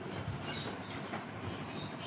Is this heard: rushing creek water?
no